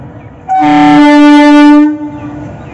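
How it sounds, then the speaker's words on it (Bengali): A train horn sounds one loud, sustained blast of about a second and a half as the train pulls away from a station platform, with faint background noise before and after. "ট্রেন ছেড়ে দিয়েছে।"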